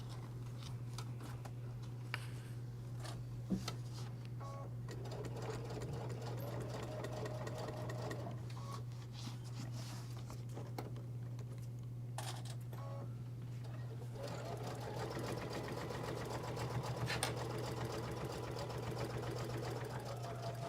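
A sewing machine runs steadily, stitching a messenger bag, with a constant motor hum and fast needle chatter throughout, close and loud, plus occasional small handling clicks and no talking.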